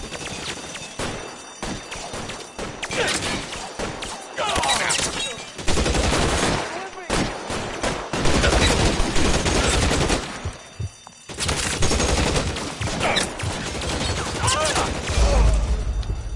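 Sustained gunfire in the L.A. Noire game, a loud, dense stretch of repeated shots and automatic bursts with short gaps, continuing throughout with voices talking beneath.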